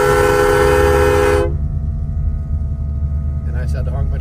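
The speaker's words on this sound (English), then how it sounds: "And I just had to honk my train horn" A loud, sustained train horn installed on a vehicle blares for about a second and a half in drizzling rain at Big Bear Lake, California, then cuts off, leaving a low rumble with faint voices near the end.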